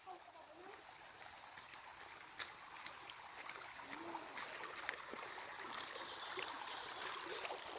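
Steady broadband rush of a river flowing nearby, with a few faint clicks and splashes over a constant wash.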